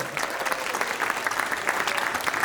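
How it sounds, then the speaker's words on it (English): An audience claps warmly after a live performance of a robot acrobatics act, a steady, dense wash of applause with no voices over it. "Can I have a warm applause for Daniel Simu?"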